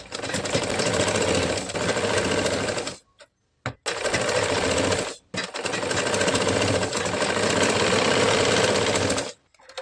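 An electric sewing machine runs loud and close, stitching katori blouse fabric in long steady stretches broken by two short pauses.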